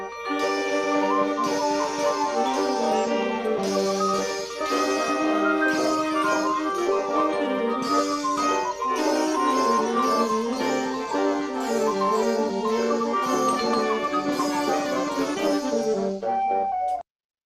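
Unedited saxophone quartet recording of "The Swan", marked by latency and uneven microphone volumes, with several saxophone lines overlapping in sustained, slightly uneven phrases, continuous and fairly loud, ending abruptly.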